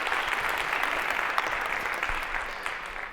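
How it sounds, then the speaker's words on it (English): A lecture hall audience at a CS50 cybersecurity lecture applauds as a volunteer comes on stage, with brief, dense, steady clapping throughout. "Round of applause for this brave volunteer."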